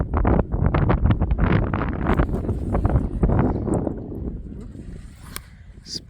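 Strong wind gusts buffet the microphone while someone paddles a small boat across a pond, a rough, rushing roar that is loud at first and slowly eases toward the end.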